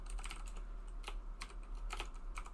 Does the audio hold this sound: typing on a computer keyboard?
yes